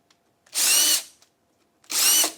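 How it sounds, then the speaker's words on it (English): A power drill countersinks screw holes in wooden boards: two short, loud whirring bursts of about half a second each, separated by a brief silence, close up and without talk. "So literally just a small countersink area just to clean off here."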